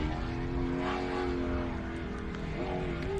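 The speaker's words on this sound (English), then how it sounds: "That's obviously a torque converter car by the sounds of that." A 7 litre torque converter drag race car at a racing event drones steadily and loud, holding a sustained engine roar with a slight rise in pitch near the end.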